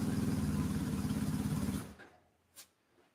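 A motorcycle engine idling close by with a rapid, even, shaking putter that runs steadily, then cuts off abruptly, leaving near silence broken by a single faint click.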